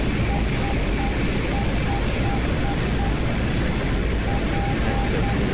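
A MiG-21 Fishbed jet engine in a night flight in the DCS combat flight simulator, cruising at high speed: a loud, continuous broadband roar with a steady high whine and no breaks.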